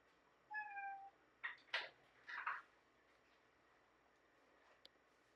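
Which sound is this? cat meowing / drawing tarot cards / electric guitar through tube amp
cat meowing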